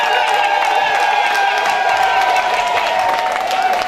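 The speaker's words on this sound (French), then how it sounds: "applaudissez pour le chef de famille s'il vous plaît" Wedding guests cheer and applaud for the head of the family. It is a loud, continuous crowd roar with sustained high vocal cheering and scattered claps mixed in.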